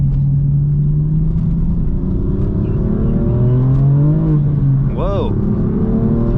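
A BMW M4 F82 is pushed into a drift with its engine roaring loudly up close, revs climbing and dipping in sweeping waves. A brief high squeal near the end and a voice exclaiming over the engine.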